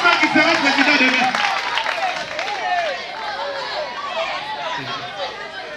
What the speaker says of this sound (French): On applaudit très fort pour notre ami, on applaudit très fort.